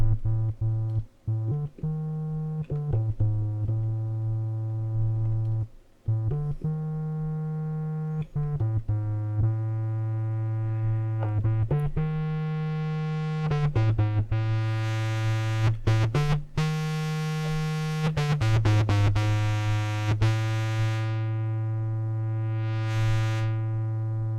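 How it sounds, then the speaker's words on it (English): Electric guitar through a germanium-diode fuzz distortion, chords and notes played continuously, thick and buzzy with a slightly softened, rounded edge, strumming in phrases with brief gaps. "the germanium diodes kind of filter the distortion sound"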